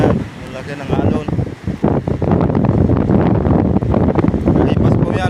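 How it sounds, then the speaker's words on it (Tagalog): Gusting typhoon wind and heavy surf pound the coast during Typhoon Uwan, a continuous close roar of wind on the mic and breaking waves with a brief lull near the start. "Ayan, ang laki ng alon."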